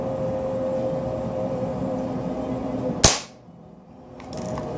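A Crosman Pumpmaster 760 air gun fires once, a single sharp snap over a steady low background hum, followed by a brief quiet and then the hum returning.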